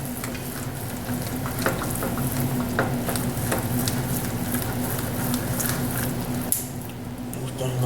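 Grits with paprika are stirred in a pot with a spoon, a steady wet scraping and squishing close up, with soft sizzling patter throughout and brief clicks of the spoon.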